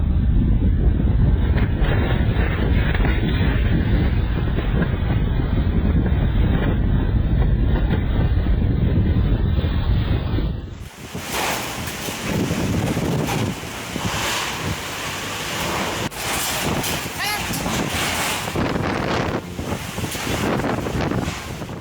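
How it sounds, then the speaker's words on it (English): Heavy surf from Hurricane Fiona pounds the Canadian coast, a dense continuous roar of crashing waves and wind buffeting the microphone, with a sharper, more broken wash of water in the second half. "Hurricane Fiona caused devastating damage in Canada as powerful waves slammed into coastal communities"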